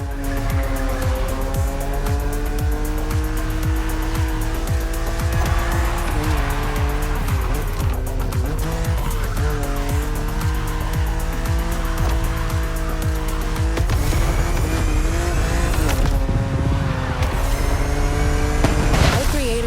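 A BMW driven hard on open road in The Crew Motorfest, a loud steady engine drone rising and falling with gear changes, with tire squeal and a louder surge near the end.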